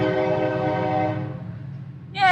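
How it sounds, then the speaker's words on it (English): A train passing close by a house sounds its horn in a long, loud, sustained blast that fades, then a second horn blast starts at the end, over a steady rumble. "There goes the train."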